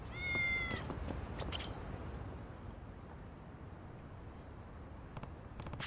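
A cat in the video game Lost Judgment gives a single clear meow near the start, with faint game ambience and a few soft clicks after it.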